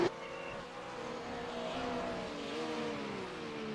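A race car engine at Brands Hatch in a racing game drones and revs steadily, faint and held, with the pitch sliding through gear changes.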